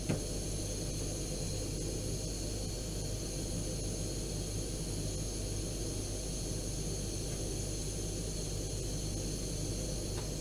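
Water in a JetBoil camping stove at a rolling boil, a steady, continuous broadband hiss and bubbling roar that holds evenly throughout, close and fairly loud with no talking.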